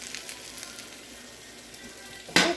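Keto clam fritters frying in a pan, a soft steady sizzle with light crackling throughout, fairly quiet, ending in a brief louder burst near the close.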